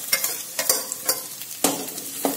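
Chopped onion sautéed in a pan for leftover rice balls: repeated crisp spatula scrapes and stirring strokes at an uneven rhythm over a light sizzle, close and fairly loud.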